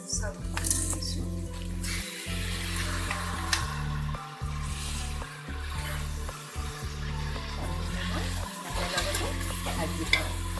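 Rice being fried and stirred in a pan with carrots, capsicum and peas for matar pulao, a steady low sizzle with repeated scraping stirs and occasional utensil clinks throughout.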